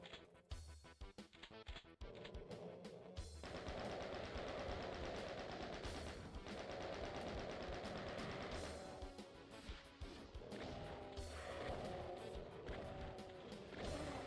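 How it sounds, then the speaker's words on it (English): Sustained rapid-fire chain gun bursts in the DOOM game, loud and continuous, layered over dense music and in-game noise for most of the stretch. "Swap out to my chain gun."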